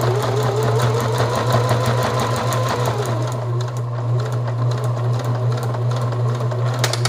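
A sewing machine stitching elastic into a beer box cowboy hat, its motor humming steadily and the needle chattering rapidly up close without pause throughout.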